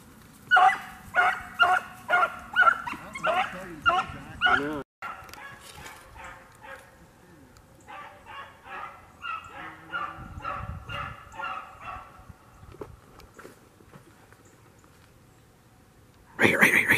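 Hunting dogs on a rabbit hunt bark in a rapid series of loud yelps, then fainter barking continues in the distance, ending with a sudden loud burst close by.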